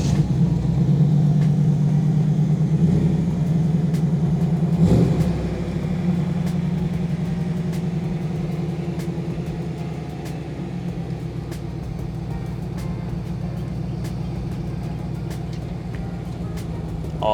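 A 1995 Camaro Z/28's low-mileage LT1 V8 rumbles deep and steady while driving, louder at first, then settling into a softer, even drone with no talk.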